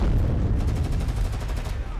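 Dense, continuous gunfire from the Girls' Frontline 2 game as troops hit a wall of lead outside a tunnel, a steady rumbling barrage of shots and impacts with no pauses.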